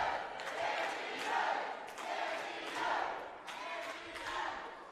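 A wrestling crowd at an RWA Spring Fling event cheers and chants in rhythmic swells, a dense roar rising and falling several times from a moderate distance.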